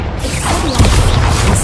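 Incendio fire spell cast in Hogwarts Legacy: a sudden whooshing burst with a crackling, mechanical rush that swells and stays loud to the end of a short moment.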